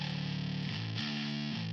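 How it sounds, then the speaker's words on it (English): Bass guitar played straight into a Universal Audio Ampeg amp emulation, a thick, gritty sustained tone with a few note changes, steady and upfront with no voices. "My favorite bass amp in the whole world, the Universal Audio Ampeg"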